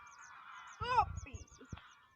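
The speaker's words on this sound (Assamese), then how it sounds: "উৰি যাবগৈ ৰাজহাঁহকেইটা। ৰাজহাঁহ লাগিছে আপোনাৰ উৰি গুচি গৈছে।" Geese honking in a short burst near a wetland as they take flight, a few loud harmonic calls close by with softer calls and some background speech.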